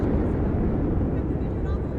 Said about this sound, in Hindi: एक MI-35 की अगुवाई और पीछे 4 अपाचे हेलीकॉप्टर्स 5 एरोहेड फॉर्मेशन में उड़ान भर रहे हैं।